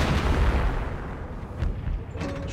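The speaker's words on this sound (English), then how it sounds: "Stupid fucking howitzer just started firing for no reason." Howitzer artillery in the World War II strategy game Company of Heroes booms heavily, its deep rumbling blasts overlapping into a loud, continuous roar with a couple of sharper reports near the end.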